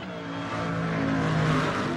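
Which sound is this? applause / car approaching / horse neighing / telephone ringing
car approaching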